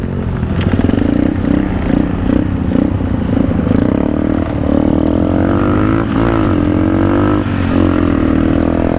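A motorcycle rides through town streets in Tournai, Belgium, its engine droning loud and close with a steady, rumbling hum, small rises in revs and some clattering.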